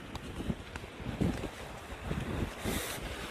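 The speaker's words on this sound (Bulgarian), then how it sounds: "Може нищо да не се чува, защото духа вятър" Seaside wind buffets the microphone in uneven gusts, giving low rumbling thumps and roughness that rise and fall over a few seconds.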